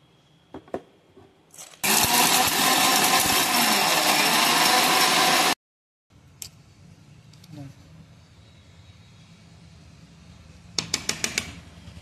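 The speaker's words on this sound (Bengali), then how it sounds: "এবার এগুলো মিক্সার গ্রাইন্ডারে পেস্ট করে নেব।" A mixer grinder grinds fried cashews, browned in white oil, into a paste for masala paneer. It gives a loud, steady whirring roar for about four seconds and then cuts off abruptly, with quieter kitchen clatter before and after.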